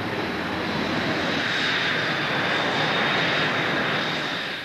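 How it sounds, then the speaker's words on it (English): Hornet jet aircraft on its first test flight, a steady, loud broadband engine roar that holds evenly throughout with no pauses, close and continuous with no voices. "Harry's first Hornet flight begins."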